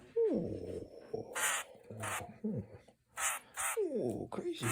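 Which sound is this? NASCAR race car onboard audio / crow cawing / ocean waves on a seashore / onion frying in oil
crow cawing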